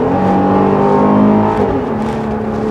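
A Jeep Grand Cherokee L Summit Reserve engine pulls under acceleration from inside the cabin, a steady, droning hum with layered tones that swell slightly and settle, with no talk over it.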